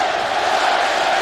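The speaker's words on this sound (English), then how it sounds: "with the crowd roaring in support of them now" Football stadium crowd roaring for the Nebraska Cornhuskers against Virginia Tech in a 2008 college game after a short punt, a dense, sustained loud roar from a large crowd with a steady tonal hum running through it.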